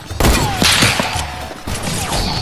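Gunfire in the video game Fortnite: a rapid burst of several sharp, loud shots in quick succession, with more shots scattered through the clip and some brief background voice.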